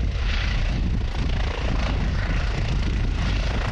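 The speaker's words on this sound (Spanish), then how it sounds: "este viernes se unieron a la tarea dos helicópteros de las Fuerzas Armadas, con Bambi Buckets" Armed Forces helicopters carrying Bambi Buckets over a wildfire ravine near Quito, a loud, dense rotor and engine roar sustained throughout with a low thumping texture, no voices.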